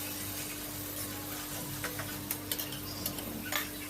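Taro leaf curry cooking with a fish head in a covered pan, with a soft continuous sizzle and a few light scrapes and clinks as it is stirred, fairly quiet.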